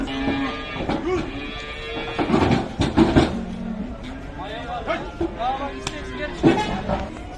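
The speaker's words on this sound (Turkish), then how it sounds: "Simentel inek." Simmental cows at a livestock market low repeatedly, several moos of varying length rising over a busy background of people talking and occasional knocks and vehicle sounds.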